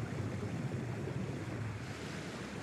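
Steady rushing water from Paper Mario: The Origami King, a broad, even wash of waves or surf with a low churning rumble, continuous and fairly loud with no voices over it.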